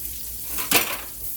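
About a dozen and a half Cajun-seasoned shrimp fry in hot oil, a steady close sizzle with one brief louder clatter partway through.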